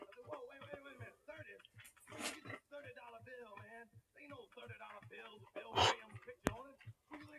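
Husky dog barking and whining in short bursts through the clip, close and moderately loud, with a person talking over much of it.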